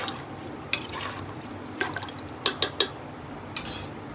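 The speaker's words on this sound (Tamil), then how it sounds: "லெமன் வந்து ஒரு பழம் பிழிஞ்சு வச்சுருக்கேன், அந்த ஜூஸ் ஆட் பண்ணி அதையும் ஒரு மிக்ஸ் பண்ணிக்கலாம்" Lemon juice drips and splashes into chicken biryani in an electric rice cooker, a handful of sharp, brief liquid drops and taps at irregular moments, close and fairly quiet over a soft background hiss.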